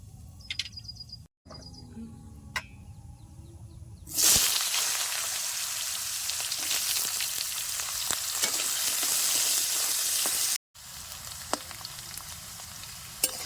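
Potatoes frying with cumin and spices in a pan for a village-style shrimp stalk chorchori: a loud, steady sizzle starts suddenly and continues with faint stirring clicks, after a quieter stretch with light bird chirps.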